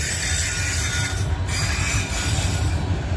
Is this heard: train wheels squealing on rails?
yes